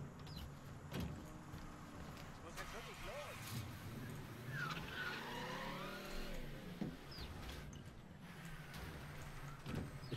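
Car driving and skidding in the video game Mafia III, with engine drone and tire squeal through the middle while someone talks over the game audio.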